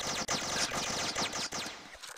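Rapid SMG fire in a Roblox shooter game, a dense stream of fast repeating shots with brief pauses, loud and continuous.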